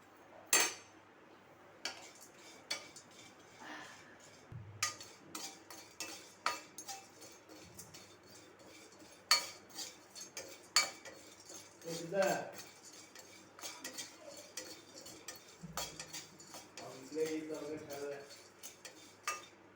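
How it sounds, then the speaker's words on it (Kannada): Broken cinnamon pieces dry-roasted in a pan for sambar powder, with scattered metallic clinks and scrapes of a spoon against the pan and occasional soft rattles, fairly close, and brief voices between. "ಇದು ಚಕ್ಕೆ ಇದೆಯಲ್ಲ ಈಗ ತುಂಡು ತುಂಡು ಮಾಡಿಕೊಂಡು ನಾವು ಹುರ್ಕೋಬೇಕು"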